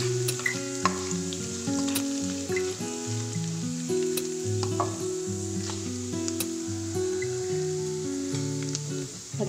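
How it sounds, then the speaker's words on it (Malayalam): Crushed cardamom, cinnamon and fennel sautéing in hot oil in a pan for a vegetable stew, a dense, continuous crackling sizzle with light stirring, close and steady, no talk. "ഏലക്കായ, കറുകപ്പട്ട, പെരിഞ്ചീരകം അത് പതുക്കെ ചതച്ചെടുത്താണ് അത് അതിലൊന്ന് ഒരു മിനിറ്റ് ഒന്ന് വഴറ്റുക"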